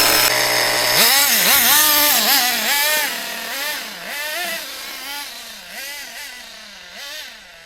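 A vintage HPI MT2 nitro RC truck engine buzzes loudly and close, revving up and down in repeated rising and falling whines before easing toward a lower idle.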